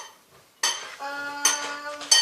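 A plate and cutlery clink a few times in short bright rings while custard is served at home, close and fairly quiet, with no talk.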